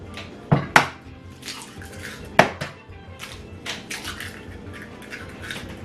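Eggs cracked against a tabletop for a macaroni pie mix give three sharp, close knocks, two in quick succession and one a couple of seconds later, over faint kitchen clatter.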